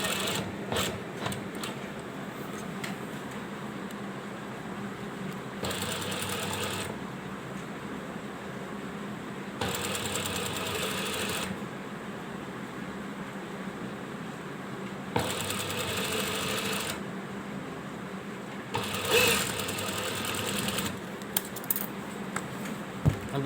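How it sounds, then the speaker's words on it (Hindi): Sewing machine stitching close beside fine piping on a ladies' kameez neckline, running in several sustained bursts of steady mechanical whirring separated by short pauses, close and moderately loud with no talking. "पाइपिंग के नज़दीक सिलाई लगाते जाना है।"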